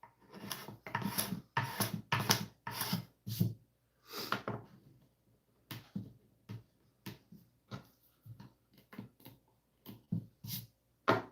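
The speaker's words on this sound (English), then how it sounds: "I'm dulling my knife by using it as a scraper" A knife blade used as a scraper rasps across a guitar in a workshop, making repeated close scraping strokes in uneven bursts with short pauses between them.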